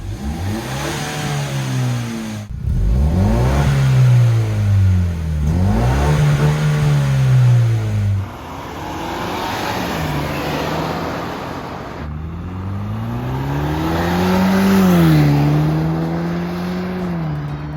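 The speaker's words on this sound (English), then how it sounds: "the MagnaFlow Overland exhaust is installed" Ford Bronco fitted with a MagnaFlow Overland exhaust revs and accelerates on the road, loud and close, climbing through several surging pulls with road noise underneath.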